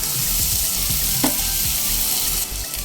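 Chopped green chillies drop into prawns frying in a pan, with a steady close sizzle and a brief splash of added ingredients partway through; no speech.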